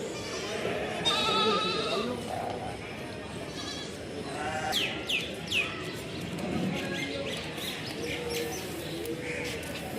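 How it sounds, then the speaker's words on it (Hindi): Goats and sheep bleat at a busy livestock market in Gazipur, Delhi, several calls rising over crowd murmur and birds chirping, while someone talks nearby. "ये बकरी भी अच्छी है माशाल्लाह, दांतों में पूरी होगी, बहुत अच्छे लंबे फ्रेम की बकरी है"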